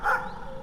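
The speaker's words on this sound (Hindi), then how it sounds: "भाल्या अब भी बीच बीच में भौंक रहा था" A dog barks once, fairly close, on a farm field at dusk, a single short bark that fades into quiet background.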